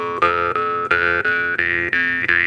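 A jaw harp with a non-saturated, open-close tone is plucked in a steady rhythm of about seven strokes, each twangy note carrying a bright overtone melody that steps between pitches, close and loud with no talking.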